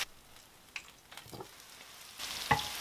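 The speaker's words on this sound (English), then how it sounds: "I'm going to allow it to simmer for like 5 minutes with the sauce." Chicken gizzards in sauce simmer in a pan with a quiet, soft sizzle, broken by scattered clicks and scrapes of stirring and a sharper knock near the end.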